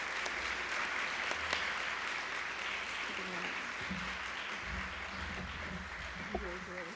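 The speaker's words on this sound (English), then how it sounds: "I'd like a round of applause for her service to the board and to the APDA chapter." Audience clapping fills a room at an annual chapter meeting and volunteer award presentation, steady moderate applause from a crowd with voices talking underneath.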